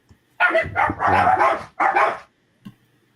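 Dogs bark in a quick, loud, close burst of several yips and barks, then a brief pause and one short final yelp.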